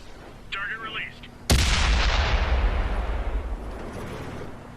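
A KV-4 heavy tank cannon fires in World of Tanks, one loud, sharp boom with a long rolling decay, with a brief game radio voice heard just before the shot.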